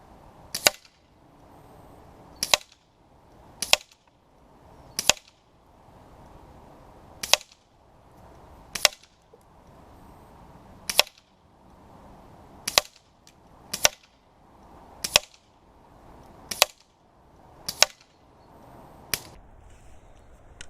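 A CO2 air pistol fired with a freshly changed gas cartridge, about a dozen sharp, loud cracks spaced irregularly a second or two apart, each with a short tail and quiet pauses between.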